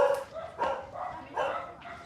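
Several dogs bark in a house, a series of loud, sharp barks and yips in uneven bursts close by, with faint voices in the background.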